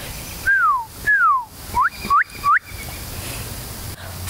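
Whistled birdsong imitation: two long descending slurs followed by three quick rising chirps, crisp and close with short gaps between.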